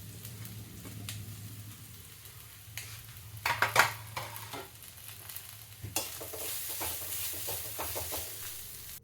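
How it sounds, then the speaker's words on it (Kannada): Grated coconut fries in a pan while being stirred, a steady close sizzle broken by scraping spoon strokes and a few louder clatters against the pan. "ಇದೊಂದು ಸ್ವಲ್ಪ ಫ್ರೈ ಆಗಲಿ,"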